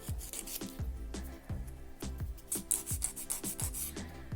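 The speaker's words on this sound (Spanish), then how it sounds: "no se emocionen limando, que pueden rebajar bastante del largo" Steady back-and-forth rasping of a nail file shaping soft gel nail tips, close and continuous with regular stroke rhythm, a few brighter scrapes toward the end, no voices.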